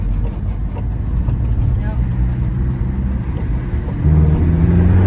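A diesel car engine rumbles steadily at close range, its low throbbing growl getting slightly louder toward the end.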